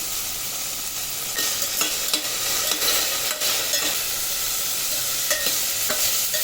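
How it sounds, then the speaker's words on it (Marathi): Cluster beans and potato fry in hot oil in a pan, a steady close sizzle with intermittent clicks and scrapes of a spatula stirring, moderate in level and without voices. "चांगली अशी भाजून मस्त तेलात घ्यायची"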